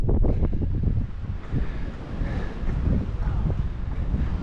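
Strong 40-mile-an-hour gusts on a ranch on a cold day batter the microphone with heavy, blustery rumbling that surges and eases in loud waves across the whole span.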